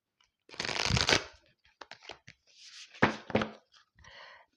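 Tarot cards are shuffled close up in a quick riffle with a soft flutter, then several lighter taps and slides follow as cards are handled and set down for a lunology reading.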